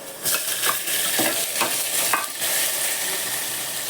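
Onion tipped into a hot pan for tondli rice, a loud close hiss with several stirring scrapes in quick succession, then a steady sizzle settling in, no talking.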